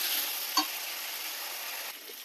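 Masala for a potato and paneer curry sizzles steadily as it is sautéed in a pan, a close, continuous frying hiss with a single clink of stirring.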